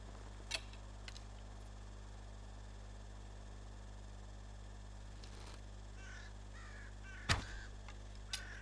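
A crow caws in the game Medieval Dynasty: a few short harsh calls over a steady low electrical hum and hiss, spaced irregularly with a louder caw near the end.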